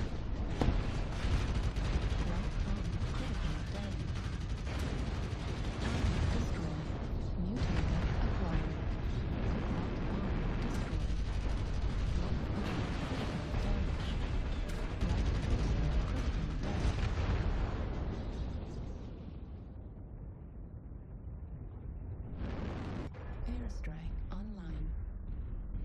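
Airstrike explosions in a video game: a long run of deep rumbling blasts mixed with gunfire that roar for most of the stretch, ease off near the end, then flare once more, with voices talking over them.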